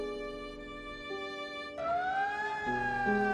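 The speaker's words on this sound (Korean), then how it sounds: "1913년 3월 25일 자정, 데이턴이라는 도시의 긴급 대피를 알리는 사이렌이 울립니다" An emergency evacuation siren sounds in a reenactment of the 1913 Dayton flood. Steady tones shift and slide upward, growing louder partway through, with overlapping wails and no voices.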